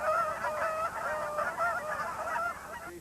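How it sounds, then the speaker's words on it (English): Geese honking in flight in spring in Alaska, a steady overlapping chorus of nasal honks from a flock at moderate distance, continuous and alone. "Something about the geese flying in the spring that puts it all back in focus."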